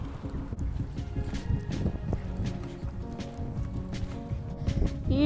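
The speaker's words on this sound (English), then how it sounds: "So excuse the wind, it's very windy today" Gusty wind buffeting the microphone, a continuous low rumble with uneven surges, and faint rustling movement underneath.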